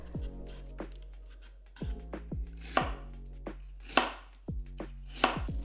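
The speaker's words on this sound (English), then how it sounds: "Peel the skin and cut into slices." A knife cuts peeled lotus root into slices on a board, about ten crisp, evenly spaced chops, each a sharp near knock with a brief ring, with no speech.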